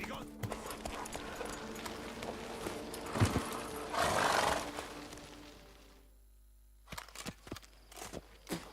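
Roach, the horse in The Witcher 3, gallops with rhythmic hoof clops that rise and fall, then drop out briefly before resuming, with game sound effects and a voice in the mix.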